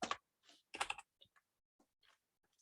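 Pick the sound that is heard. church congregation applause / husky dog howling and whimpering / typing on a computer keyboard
typing on a computer keyboard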